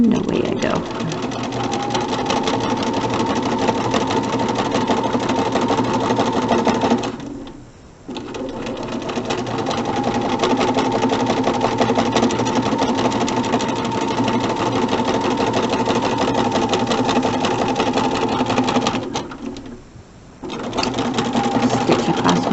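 A sewing machine stitches quilt fabric for a flying geese block in a fast, steady mechanical patter, pausing twice briefly before resuming at the same even speed.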